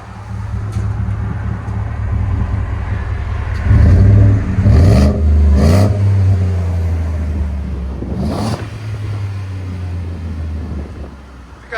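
A 2024 Ford F-150 with a 5.0L Coyote V8 and an MBRP universal muffler rumbles steadily at idle with a deep low exhaust tone, with a few brief swells in engine note, loud and close.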